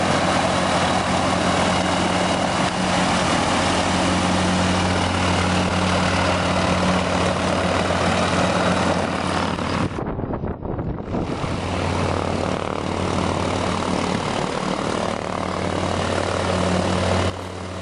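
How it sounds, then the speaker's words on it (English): An RV-12 homebuilt light airplane runs its engine and propeller during a taxi test, a loud, steady drone heard alone and close, with a brief dip partway through before the engine noise returns at full strength. "I ran the engine for about 45 minutes with no issues at all."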